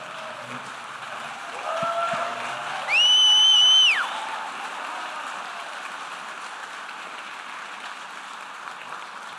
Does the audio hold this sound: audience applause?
yes